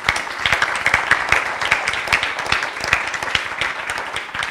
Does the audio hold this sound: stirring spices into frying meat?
no